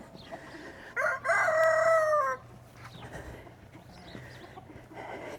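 A rooster on a farm crows once, loud and near, followed by softer clucking from chickens, with faint background noise.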